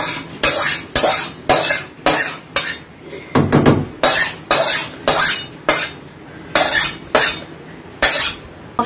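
Roasted ground spice mix tipped into a pan and stirred, heard as loud, rhythmic scraping strokes of a utensil against the pan, about a dozen evenly spaced sweeps, close by with no talking.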